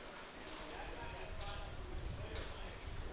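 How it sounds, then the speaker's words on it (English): Horses warm up on a fair race track after rain, their hooves making a steady clip-clop beneath a blanket of distant crowd noise and murmuring voices. "we do got some horses on the track warming up"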